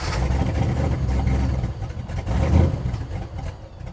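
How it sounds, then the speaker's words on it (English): A Foxbody Mustang with an aggressive cam and base timing idling roughly, a loud, close, lumpy engine rumble that surges and wavers unevenly throughout. "It doesn't like to idle with the cam and base timing, so it may die, but that will be okay."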